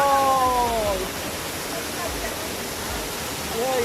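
Small waterfall inside a tea estate, a steady broadband rush of falling water, close and constant, with a person's voice speaking briefly over it at the start and end.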